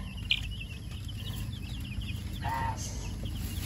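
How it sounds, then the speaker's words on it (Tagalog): Young chicks on a small farm, settling after feeding, give high peeping chirps in short runs over a low rumbling background, fairly close and continuous. "pagkatapos nilang kumain na, tutulog na sila yung mga sisiw"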